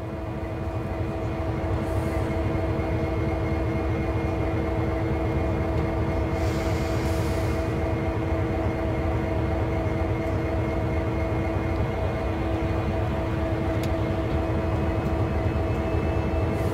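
In the Train Sim World game, a CSX heavy diesel locomotive creeps slowly onto a turntable with a constant loud engine drone and steady mechanical throb. Faint hissing bursts sound briefly partway through.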